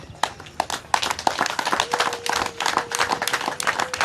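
Audience applause at a Kigali gathering, a crowd clapping in a dense, steady patter for several seconds, with scattered louder claps and faint background voices.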